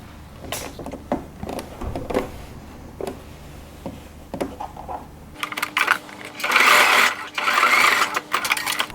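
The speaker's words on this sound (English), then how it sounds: "you stitch it all the way down to the hemline" A sewing machine stitches the seam of a pair of shorts down to the hemline. It opens with scattered clicks and handling noises, then two loud close bursts of steady stitching follow.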